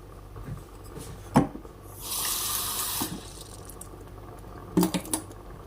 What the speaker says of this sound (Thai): เดี๋ยวนะว่าน้ำน้อยไป จะใส่น้ำอีก